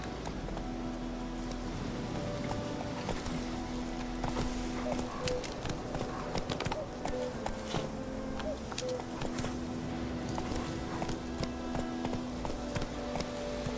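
Roach, the horse in The Witcher 3, gallops in a steady, continuous clip-clop of hoofbeats that lasts the whole stretch, with soft tonal music underneath.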